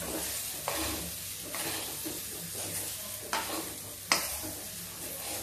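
Potatoes with fresh green coriander fry in a pan, giving a gentle sizzle under a few quiet scraping stirs spaced through the moment, with one sharper scrape near the end and no talking.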